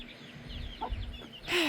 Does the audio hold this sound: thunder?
no